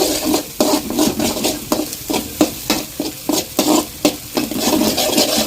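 Ingredients for egg rice, seasoned with turmeric and salt, are stirred and scraped in a hot pan, with a loud, rhythmic scraping against a continuous sizzle.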